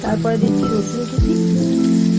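Chopped garlic frying in oil and butter in a pan while cooking chicken soup, a steady close crackling sizzle running throughout under a voice talking.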